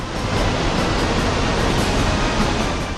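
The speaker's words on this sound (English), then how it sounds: "Water is flowing at 300 kilometers per hour." Rushing waterfall water in the Sky Odyssey video game makes a loud, steady roar of dense noise that holds without a break.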